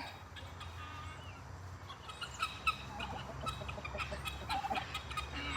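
Farm turkeys call in faint, scattered gobbles and clucks at a distance over a quiet outdoor background, with no talk.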